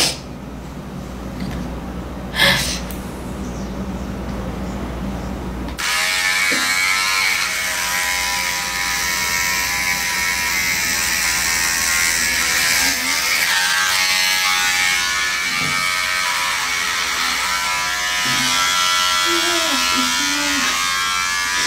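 A handheld electric shaver buzzes steadily while cutting someone's hair, a constant close whine that starts faintly, then grows louder and continues without a break while people talk over it.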